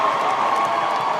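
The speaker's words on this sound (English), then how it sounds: "give each and every one of them a great round of applause right now" Crowd at a hair battle competition cheering and clapping, a dense continuous wash of applause and shouts, loud and close throughout.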